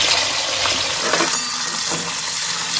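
Flat beans frying lightly in a pan for Bengali shukto, giving a steady, close hiss of sizzling oil with faint stirring and scraping, no voices present.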